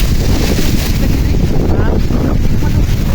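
Strong typhoon wind (Typhoon Egay) roars steadily into the microphone, a dense low rumble and buffeting that fills the whole clip, with faint voices partly buried beneath it.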